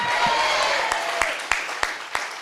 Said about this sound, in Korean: 주님께 박수 쳐야 돼요.